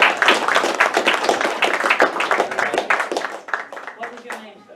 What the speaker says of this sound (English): Everybody give him a big clap.